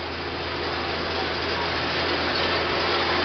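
A 1976 International Harvester tractor engine idles in an outdoor field, a continuous, even, low rumble heard close and steady with broadband mechanical noise and no clear breaks.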